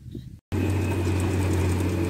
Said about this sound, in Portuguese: tá esse barulho porque... A máquina tá fazendo a estrada.